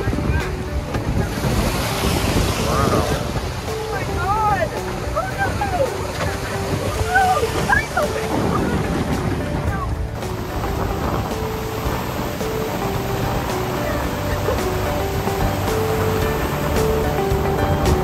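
Strong waves surging and crashing around a boat at sea off the Thai coast, a loud continuous wash of water and wind buffeting the microphone, with excited voices exclaiming over it.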